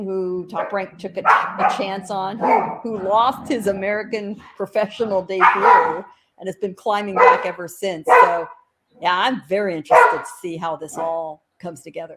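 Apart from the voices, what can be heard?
dogs barking in the background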